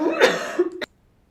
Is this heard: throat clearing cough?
yes